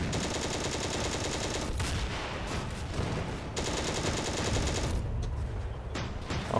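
Machine gun fire in the tank video game Steel Fury with a Panzer II, dense continuous bursts layered with battle noise, loud and sustained with a couple of brief breaks.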